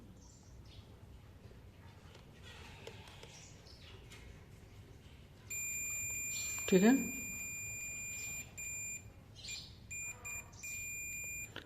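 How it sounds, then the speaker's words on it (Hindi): A multimeter's continuity beep while its probes test the pins of a 6-pin DPDT self-lock switch: a sustained, steady electronic tone starts midway and runs to the end, with someone talking over it and some soft chirping noises. "बीप साउंड आ रहा है।"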